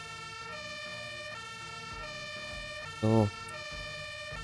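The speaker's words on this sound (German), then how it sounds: "hier können wir ruhig mal mit Martinshorn durchfahren" Fire engine siren in the video game Farming Simulator 22, a loud electronic two-tone horn cycling steadily with stacked harmonic wails, a short honk bursting over it midway and a brief spoken word.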